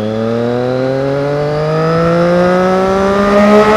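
A Triumph Street Triple R motorcycle engine revs and pulls steadily higher, its harmonic whine climbing in pitch over a few seconds. The sound is loud and close, with no voices.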